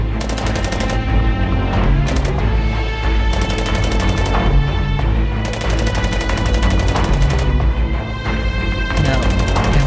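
Loud, rapid bursts of automatic gunfire come in repeated volleys over a sustained, dramatic musical score, with no talking heard.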